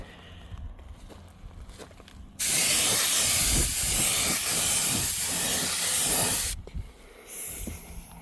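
A spray gun applying satin paint to the rear AC evaporator box of a Humvee HMMWV: one sustained, loud hissing burst of about four seconds, with quieter shop ambience before and after.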